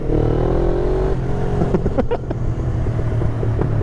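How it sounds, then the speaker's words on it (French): A motorcycle engine revs loudly up close, its pitch rising and then dropping into a rough, uneven idle. "faut pas que je fasse trop de bruit avec la moto"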